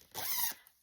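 A zipper on a handmade tote bag being pulled in one quick, close rasping stroke of about half a second, then quiet.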